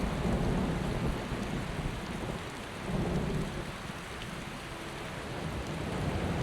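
Steady rainfall with rumbling thunder in Skyrim, a dense wash of rain noise over low rolling thunder swells that surge and ease throughout, with no voices.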